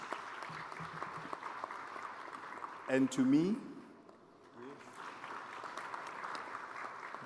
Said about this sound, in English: give you a round of applause to my panelists.